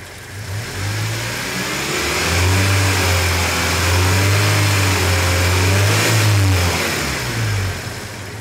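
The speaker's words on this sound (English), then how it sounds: "what I'm going to do is increase the RPM" A car engine revs up from idle to higher RPM and holds there for several seconds before easing back down, loud and close with no talk.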